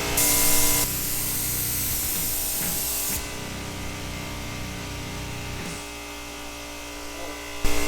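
A spray gun lays down the first coat of paint on a rally Corvair, giving a steady, close hiss that runs for several seconds with a continuous electrical hum underneath.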